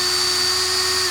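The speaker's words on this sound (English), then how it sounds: "So just spin up the drill for about 3 seconds or so." A power drill spinning steadily for about a second while twisting Ni80 wire held in its chuck, a loud, close, continuous whine with a constant pitch.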